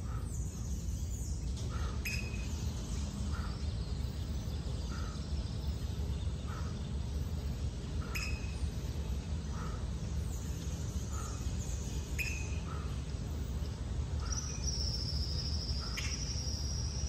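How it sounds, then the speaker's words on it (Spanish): Outdoors among mango trees, birds call in short, spaced chirps over a steady, dense bed of crickets and insects, a calm ambience with no voices. "Solo tengo música de los pájaros."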